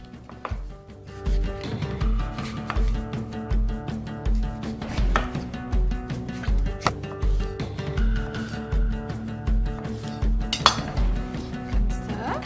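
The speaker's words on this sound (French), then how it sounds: "Je vais rajouter mes pêches directement dans le mélange. Comme ça. Je vais les couper." Peaches are cut with a knife straight into a bowl of bread pudding mixture, making a steady series of soft chopping taps on the bowl with light clinks. The taps sound close and carry on without any talk.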